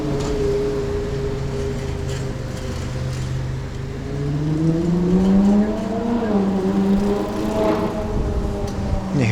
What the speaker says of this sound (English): Those are beautiful engine sounds. The Italian Ferrari engine.